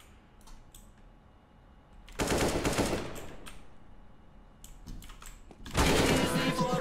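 Suppressed gunfire in CS:GO, heard as two loud bursts of rapid muffled shots, one near the middle and one near the end, with quieter game noise and clicks between them.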